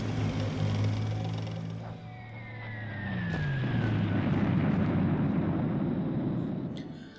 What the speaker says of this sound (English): an air attack in Essen